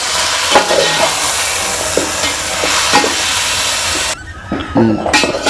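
Ginger and garlic fry for chicken biryani, a steady close sizzle and hiss with occasional stirring scrapes, which drops away near the end to a few clinks.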